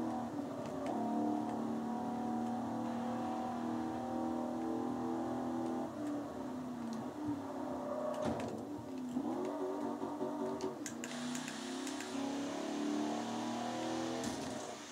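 The Cadillac Sixteen V16 concept car drives in Project Gotham Racing 4, its game engine note humming and revving in steady tonal sweeps, with shifts and a few sharp transient bursts, loud and continuous with no talk.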